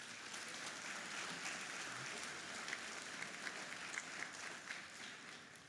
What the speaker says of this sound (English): let's give a round of applause for our commissioner